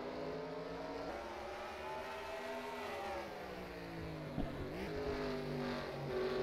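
Race car engines drone and shift pitch as a pack battles around a road course, with several engines overlapping at a steady distance and easing off and on through the corners, without commentary.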